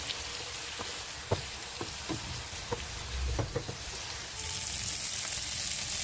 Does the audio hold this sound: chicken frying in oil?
yes